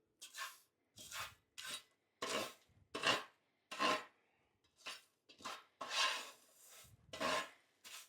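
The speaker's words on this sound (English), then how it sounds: "So just going to give them a good mix through here." Pumpkin seeds being tossed and mixed on a parchment-lined baking tray, giving about a dozen short scraping, rustling bursts in an uneven rhythm, close and fairly quiet, with silence between strokes.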